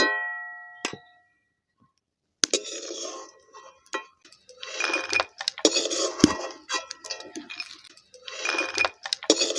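Fried dried lentil bori lifted out of a pan of mustard oil with a metal utensil, producing sharp clinks and scraping clatter in irregular bursts after an opening ring and a short quiet gap.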